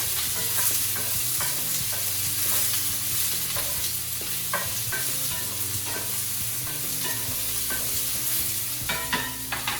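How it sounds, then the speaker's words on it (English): Hash frying in a hot pan and being stirred around, a steady loud sizzle running throughout with scraping stir strokes on top and no talk. "get those all nice and hot. Let's give them a stir around."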